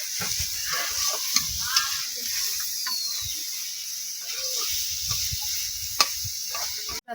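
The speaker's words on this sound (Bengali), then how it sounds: "দেখো কচুটা দেখো একদম পুরো ভালো করে ভেজে ভেজে নিয়েছি" Taro greens fry and sizzle in a pan at home, a steady hiss broken by occasional scraping stirs, close and moderately quiet, without speech.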